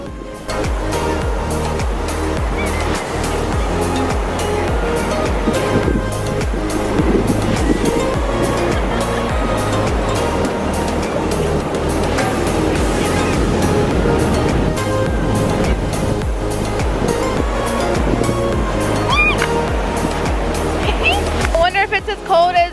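Ocean waves wash steadily onto a beach during a volleyball tournament, a continuous surf rumble with wind and people talking over it throughout.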